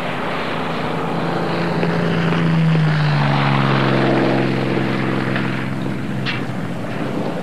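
A Boeing B-29 bomber's propeller engines drone steadily and loudly throughout, a continuous airscrew roar with a low pitch that slides downward midway, no voices present.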